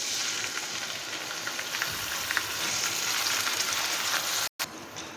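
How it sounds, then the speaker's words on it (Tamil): Green turkey berries (sundakkai) frying in hot sunflower oil give a steady, close sizzle with light crackles throughout, broken by a brief cut near the end. "எண்ணெய் காஞ்ச உடனே அலசி வச்சுருக்கிற சுண்டைக்காயை போட்டு நல்லா வதக்கி எடுத்துக்கலாம்"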